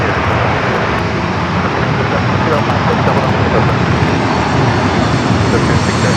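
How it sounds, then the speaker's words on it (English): A passenger airliner lands at San Diego airport on runway 27, its engines producing a loud, steady broadband roar that fills the entire span without letup. "It's the flight coming in from Phoenix up next."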